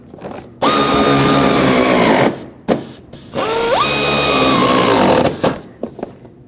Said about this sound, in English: Now let's tighten up the bolts that go in here.